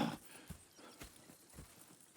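Horses walk in Red Dead Redemption 2, their hooves giving faint, evenly spaced clip-clops about twice a second over a quiet background.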